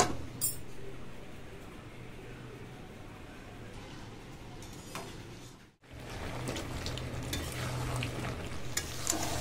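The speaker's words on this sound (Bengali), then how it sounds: "ভালো করে নেড়ে দেব।" Chicken meat frying in a pan with fried potatoes is stirred, giving a steady crackling sizzle throughout with scraping movements and a brief break partway through.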